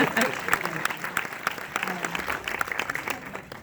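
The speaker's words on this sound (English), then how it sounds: "We can applaud." Audience applause after a film screening at a post-film discussion with the director, scattered distinct claps that rise and thin out unevenly, with voices talking over them.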